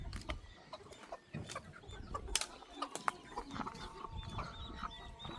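Chickens roam a village farmyard, clucking in scattered bursts near and far with a quick flutter of wings now and then over a quiet rural background.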